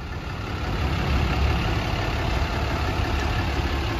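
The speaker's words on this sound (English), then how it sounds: "It's got a Cummins straight six in line, which runs perfect." Cummins straight-six diesel in a 2018 Ram 5500 rollback tow truck idling, a steady low rumble held close and constant for the whole stretch with no talking.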